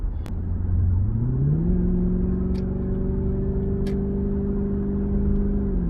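A Lexus LS460 engine with muffler removed rumbles loudly and climbs in pitch as it revs to about 3,000 RPM, then holds a steady throaty drone.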